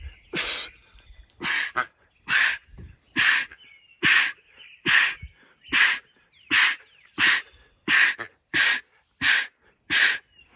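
Duck call blown in a steady series of about a dozen sharp, raspy quacks at an even pace, loud and close, with short breathy gaps between them and no talk.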